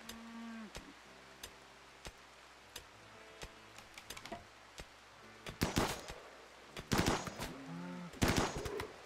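Colonists in RimWorld fire on a flock of turkeys during a hunt, and gunfire comes as a string of sharp single shots followed by louder clustered bursts. Lowing cattle-like animal calls are heard between the shots.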